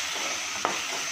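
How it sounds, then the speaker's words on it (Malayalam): Crushed shallots and dried red chillies are stirred in a pan over a steady low sizzle, with a single soft scrape of the spoon midway, quiet and close. "നമ്മൾ നേരത്തെ ചതച്ച് വെച്ച കുഞ്ഞുള്ളിയും വറ്റൽമുളകും ചേർത്താൽ മിക്സ് ചേർത്ത് നന്നായിട്ടൊന്ന് ഇളക്കി കൊടുക്കാം."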